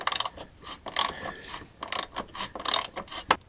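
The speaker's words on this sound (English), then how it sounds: "to loosen up this 17 millimeter bolt" A ratchet loosens a rusty 17 mm bolt on a Subaru subframe, giving rapid bursts of metallic clicking in short strokes with brief pauses between, loud and close.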